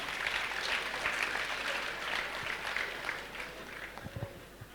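Audience applauding the young people present at an event, sustained dense clapping throughout, with a few low thumps near the end.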